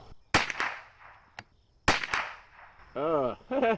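Two sharp, loud cracks from CCI Blazer 38-grain .22LR rounds fired at a target, each trailing off quickly, followed by a faint click and then a few seconds of talking.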